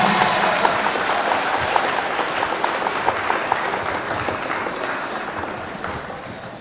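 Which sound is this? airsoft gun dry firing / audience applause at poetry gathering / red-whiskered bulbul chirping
audience applause at poetry gathering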